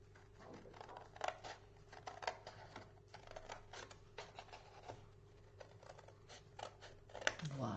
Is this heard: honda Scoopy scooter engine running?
no